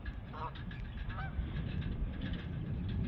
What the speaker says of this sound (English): There are Canadian geese left.